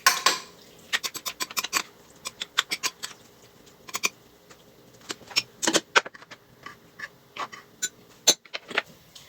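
Spoon clinking and scraping in a bowl while ceviche ingredients are mixed together, a steady series of light metallic taps and clicks up close, fairly quiet.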